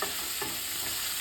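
Tomato pickle tempering frying and being stirred in a pan, a continuous close sizzle with scraping stir sounds, no talk.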